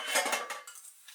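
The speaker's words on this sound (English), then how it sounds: "mix that all well together" Dishes and utensils clink and scrape in a mixing bowl as oil and eggs are stirred into the dry ingredients for a Sicilian orange cake, a short burst of close, busy clatter that eases off.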